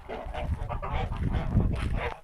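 Young Kholmogory ganders about four months old honking together, a dense, close chorus of overlapping nasal calls going on without pause.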